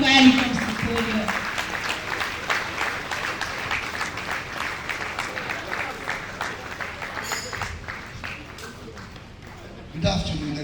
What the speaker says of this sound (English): Please keep clapping while he comes to the podium.